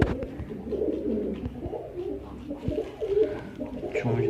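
Low-flying pigeons coo softly and repeatedly at close range against a steady background murmur.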